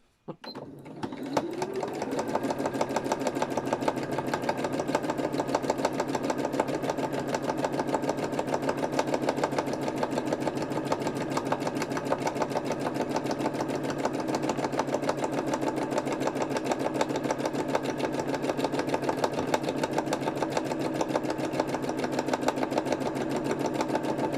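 A sewing machine stitches steadily and rapidly for a long stretch, its needle chattering at a constant fast rhythm, close and loud.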